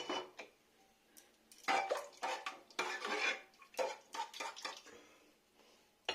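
Hot dal poured from a pot onto a plate of rice and vegetables, giving a few close clinks and scrapes of metal on dishware in short irregular bursts.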